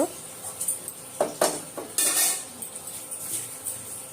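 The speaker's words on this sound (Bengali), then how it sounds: "তো কড়াই দিয়ে দিলাম চুলার উপরে" A few metallic clanks and knocks as a wok is set down on a stove, followed by a brief clatter and soft sizzle-like hiss.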